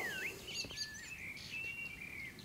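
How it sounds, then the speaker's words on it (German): Birds chirping by a lakeshore, several clear, near whistled calls and trills rising and sliding over a soft, quiet outdoor background. "Nur die Vögel zwitschern."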